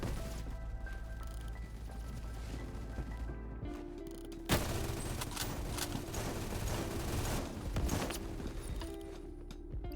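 Gunfire from a weapon in a Roblox game, heard as a dense, continuous clatter of shots over steady background game sound, with a sharp loud burst midway.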